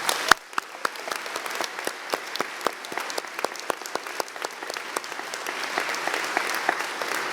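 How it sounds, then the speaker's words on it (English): Commencement audience applauds faculty members, many separate hands clapping in a loose, sparse rhythm with distinct individual claps, the texture thickening toward the end. "Please join me in giving them a round of applause."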